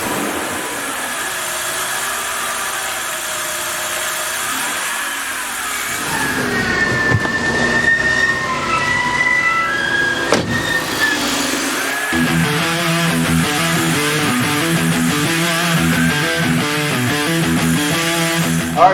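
A 2000 BMW 323i with a newly repaired idler pulley cranks and starts, then runs at a loud, steady idle with a smooth mechanical hum and no talking.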